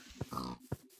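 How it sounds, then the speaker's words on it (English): Pigs in the video game Minecraft grunting and oinking in short, close bursts, a few distinct squeals and snorts in quick succession. "there is a lot of pigs out here"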